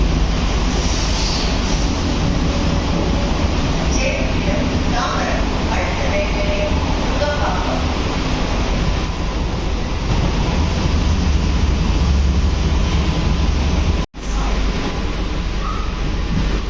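The 49003 Chennai Beach to Tambaram AC EMU local train running at speed, up to 110 km/h: a loud, steady, broadband rumble and rush from on board that continues unbroken apart from a momentary dropout near the end.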